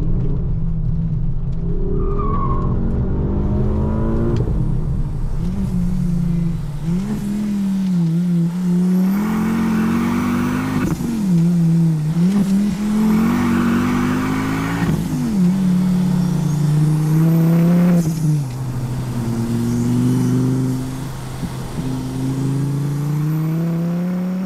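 A Stage 2 Mk2 Ford Focus ST engine revs repeatedly while driving, loud and close from inside the car, rising and falling through gear changes with a steady throaty drone between pulls.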